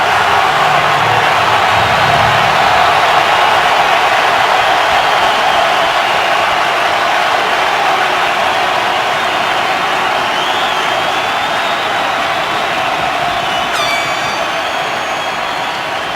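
A roaring crowd at an NFL football game between the 49ers and Giants in 2015, a loud continuous wall of cheering and noise that holds steady for the whole stretch, with a faint whistle-like tone rising near the end.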